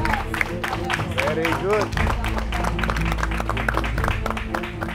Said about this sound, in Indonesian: Jadi tepuk tangan dulu untuk kalian